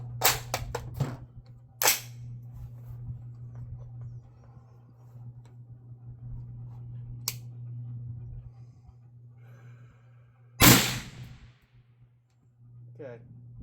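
An HK 762A1 rifle fires sharp, loud reports outdoors at a range, with a cluster of shots at the start, another around two seconds in, a faint crack later, then one last heavy shot, over a low steady hum.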